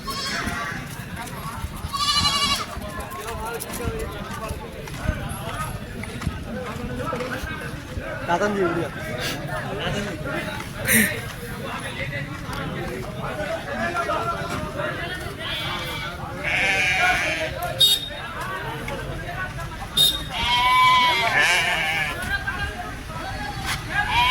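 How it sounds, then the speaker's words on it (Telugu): Goats and some sheep bleat now and then across a busy village livestock market at Chilpur Gutta, under steady crowd babble and nearby talk, with occasional louder calls standing out. "కానీ ఇప్పుడు చూడొచ్చు మొత్తం మేకలే ఉన్నాయి."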